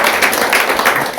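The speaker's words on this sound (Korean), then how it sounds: "박수 한번 해주세요." Dense, steady applause from a crowd, fairly loud and continuous for its brief length, with no voices standing out.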